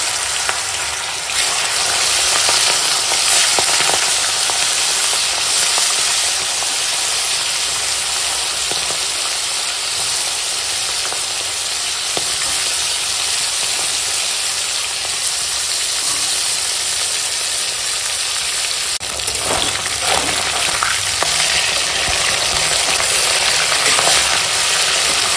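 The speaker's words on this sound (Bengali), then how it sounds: "এই মাছগুলো এখন সুন্দর করে একদম ভাজা হয়ে গেছে" Bhetki fish pieces, rubbed with salt and turmeric, fry in hot oil with a steady, dense sizzle that carries on without a break, briefly swelling louder near the end.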